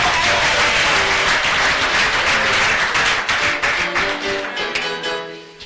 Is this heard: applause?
yes